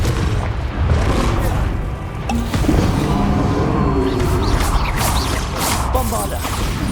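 Fiery blast spell explosions in the Hogwarts Legacy video game, a dense run of booming bursts with whooshing magic and clattering debris that keeps a loud, continuous battle roar.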